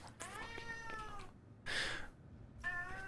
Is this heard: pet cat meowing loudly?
yes